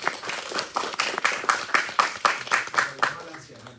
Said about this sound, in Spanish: Eso, denle un aplauso a ellas.